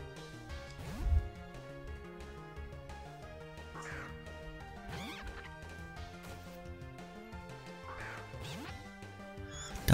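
A duck Pokémon's cry in the Pokémon Black video game: short quacking, cawing squawks repeat over continuous game music, with a louder burst near the start.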